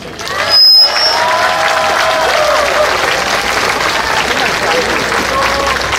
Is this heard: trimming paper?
no